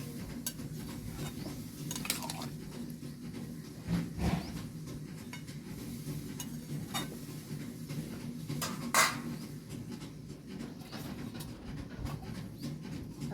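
A spoon stirs panch mishali ghonto, a Bengali mixed-vegetable dish, in a pan: quiet, irregular scraping and clinks against the metal over a soft hiss, with a few sharper knocks.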